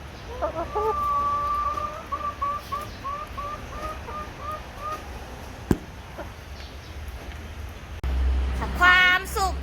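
Hen that has just laid an egg, clucking in a rising, repeated cackle for several seconds at moderate distance, followed by a sharp click and a brief louder bird call near the end.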